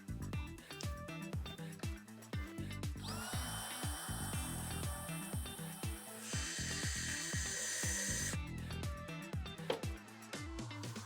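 A power drill drives a fully threaded screw through two pieces of wood, its motor whining loud and steady for several seconds and shifting pitch midway, over a busy clatter of knocks and taps.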